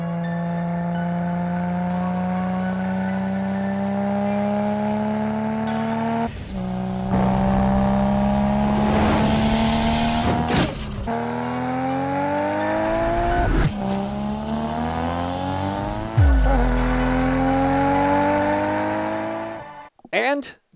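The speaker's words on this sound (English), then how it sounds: "here is also an R32 GTR powered by a T78 as well. This also has the Trust manifold and Trust front pipe as well." A Nissan R32 GTR with an RB26 engine, T78 turbo and Trust manifold and front pipe revs hard and loud nearby, rising through several long climbing pulls with brief drops between them, ending with a sharp cut-off.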